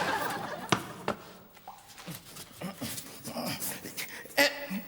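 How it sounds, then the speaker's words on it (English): Comedy sound effect of dogs whimpering and yipping, a string of short high whines and yelps in an irregular burst pattern, close and fairly loud, with no talking. "Mind out for the poisoned dogs."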